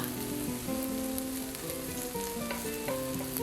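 A diet-style savoury pancake fries in coconut oil in a pan, giving a soft, steady, close sizzle with fine crackling that carries evenly on its own.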